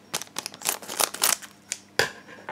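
Scissors snipping open a trading card booster pack, a series of close, quick crinkly cuts and foil rustles, then a sharper final snip.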